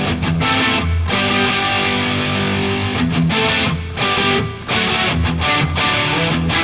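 Solo guitar part from a song plays alone, a dense distorted electric guitar line with chugging, stop-start phrasing and short breaks.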